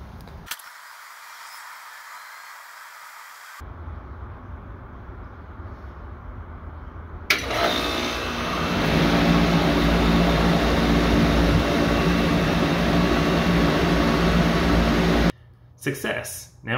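A 28-year-old central air conditioner starting up, quiet hum first, then a thump as the unit kicks on into a loud, steady broadband whoosh and drone that holds until it cuts off near the end.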